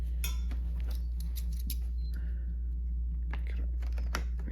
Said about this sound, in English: Oh, it's got tape. Where's the scissors?